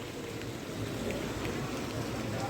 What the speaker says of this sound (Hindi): बारिश फिर से आई है।